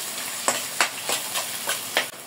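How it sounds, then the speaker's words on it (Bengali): Onions fry with spices in a pan, sizzling steadily under five or six rhythmic scraping stir strokes spaced about a third of a second apart. No one speaks. "একটু ব্রাউন কালার করতে হবে, মশলার সাথে ভেজে নিব ভালোভাবে"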